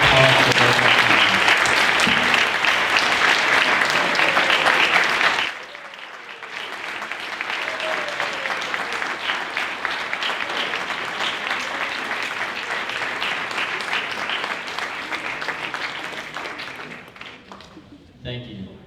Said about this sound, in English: can we please get a round of applause for both our candidates?